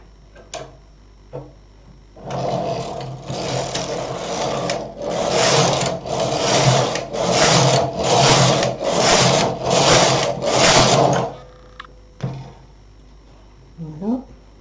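An SK 280 knitting machine knits rows of waste yarn. The carriage sweeps back and forth in about eight even, rhythmic passes, each a loud clattering rush, framed by a few quiet clicks before and after.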